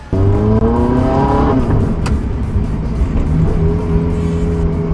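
A Ferrari 430 sports car engine hums and revs up through the gears while driving in heavy traffic, steady and close, with road noise underneath and no talking.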